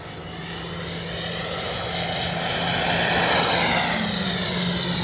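A Freewing 80mm F9F Cougar RC electric ducted-fan jet flying a fast pass, its steady high-pitched whine and rushing roar growing louder and holding near, with no voices.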